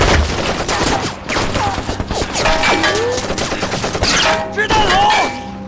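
Loud, dense machine gun fire in a war film, at least two guns firing from a bell tower at soldiers, in sustained bursts mixed with other gunshots and whistling effects throughout.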